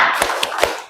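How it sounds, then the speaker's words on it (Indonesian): A class claps a short rhythmic group chant as a classroom icebreaker, three sharp, loud, evenly spaced unison claps over a faint background murmur. "Coba tepuk semangat."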